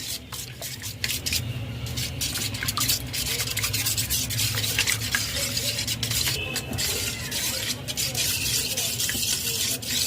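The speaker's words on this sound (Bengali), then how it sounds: "এইভাবে অনবরত নাড়তে নাড়তে স্মুথ একটি ব্যাটার তৈরি হয়ে যাবে ডিমের" Egg batter for fish fry being stirred without pause in a bowl, giving a steady scraping, sloshing rub that keeps an even rhythm and a moderate, close level from start to finish.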